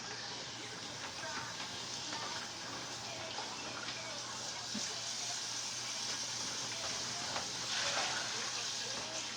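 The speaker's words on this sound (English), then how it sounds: "We're gonna rinse this thing off." Steady rush of tap water pours over raw pork ribs in a kitchen sink, a continuous hissing wash that swells slightly near the end, with no voices over it.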